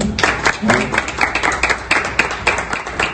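A crowd applauds steadily with overlapping claps, loud and close, while a voice or two carries over the clapping.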